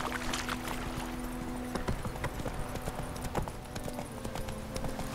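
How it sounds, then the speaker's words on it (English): A horse trots in The Witcher 3: Wild Hunt, its hooves clip-clopping in a quick, steady rhythm over a low ambient hum, close and clear throughout. "Mount your horse, Gerald"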